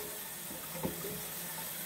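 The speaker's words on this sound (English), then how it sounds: "Well, you gotta turn the water on for this one." Water running steadily from a brand-new hot and cold sink faucet, a continuous hiss of flow with a small splash midway, fairly close, with no talking.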